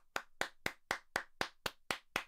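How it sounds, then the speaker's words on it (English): A hand smacks its owner's bum eight times as a clap marker for audio editing. The sharp slaps land close and loud at an even, steady pace, with quiet between them and no talking. "You weren't supposed to record me smacking my own bum."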